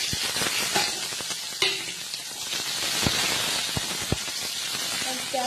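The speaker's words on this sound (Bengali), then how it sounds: "পেঁয়াজটা ভাজবো" Onion fries in hot oil with a steady hissing sizzle and a few sharp pops and stirring knocks, moderately quiet and continuous, with faint background sounds.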